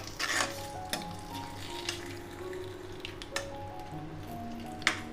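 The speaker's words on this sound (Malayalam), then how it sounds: "നല്ല മിക്സ് ചെയ്ത് കൊടുക്കാം." Beetroot pachadi being mixed in a pan, soft sizzle with a few scattered stirring scrapes and light utensil taps over about five seconds, no talking.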